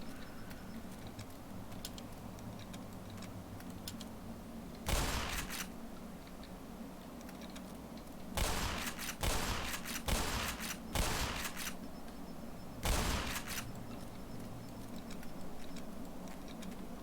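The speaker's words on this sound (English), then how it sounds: "Shotgun is worthless." Video-game shotgun fire rings out in several loud, sharp blasts, one alone and then a quick cluster of three or four, with a last single shot, all over a steady low game hum.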